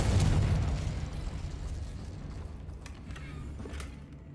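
A Confringo fire-blast spell in the Hogwarts Legacy video game goes off as one loud booming burst at the start, then its rumble and crackle decay slowly over several seconds.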